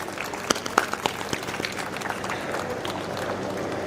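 An audience applauds former Chief Justice Bhushan Gavai at the inaugural ceremony of India's first advocate academy. A few sharp claps ring out at first, then the clapping becomes a steady, dense patter from a crowd of listeners.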